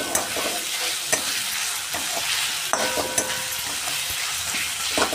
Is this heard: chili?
yes